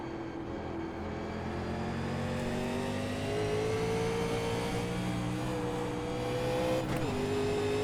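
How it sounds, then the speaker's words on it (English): An iRacing NASCAR race car at Willow Springs shifting up, its steady engine drone climbing in pitch and then dropping briefly at the shift before rising again, loud and continuous throughout. "Nice and easy upshift."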